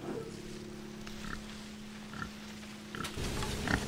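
Pigs on a small homestead grunt and oink in short bursts close by, fed on wormy ears from a first raised-bed corn harvest, with a steady low hum running underneath.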